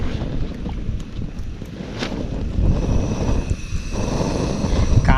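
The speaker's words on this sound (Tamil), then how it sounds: "இங்கே பாருங்க செம்ம காற்று." Strong wind gusts through a forest campsite at night, making a constant rough roar and buffeting against the microphone. The wind swells and eases with no speech.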